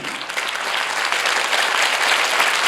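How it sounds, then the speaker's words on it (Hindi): A youth camp church congregation claps as a group, a continuous rush of many hands that swells slightly louder as it goes on, with no talk over it. "ताली छोटी थी"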